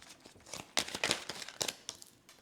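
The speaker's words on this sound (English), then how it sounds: "I'm just going to do another shuffle here." Tarot cards are shuffled in a quiet room, giving a string of soft, crisp riffling and flicking bursts at an uneven rhythm, close to the microphone with no talking.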